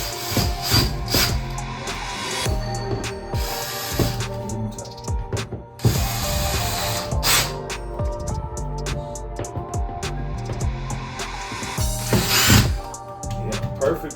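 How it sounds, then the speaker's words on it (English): Power drill drives screws to mount a bathroom soap dispenser, with repeated short whirring bursts, ratcheting clicks and knocks between them, and voices speaking close by. "Screw them all the way down."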